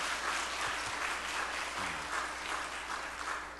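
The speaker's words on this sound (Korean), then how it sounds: "이럴 때 보통 박수 한번 치더라고요." A church congregation in Korea applauds a deacon who composed a hymn and leads the choir, a dense, steady clapping from the whole room lasting several seconds before thinning out.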